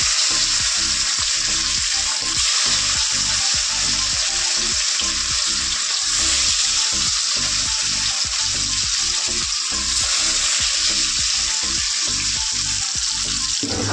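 Fish fry in hot oil in a home kitchen, a constant bright sizzle with a regular pulsing crackle repeating about every half second, close and loud with no voices.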